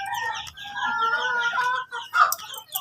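Free-range village chickens cluck steadily at close range, with a rooster among them and a sharper, louder call rising briefly near the end.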